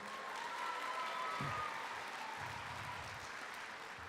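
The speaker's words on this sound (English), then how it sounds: "a big round of applause to all the nominees in that category as well" A theater audience at a youth awards ceremony applauds the nominees, steady distant clapping that fills the room, with a few faint voices underneath.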